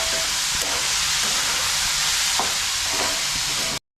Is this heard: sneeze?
no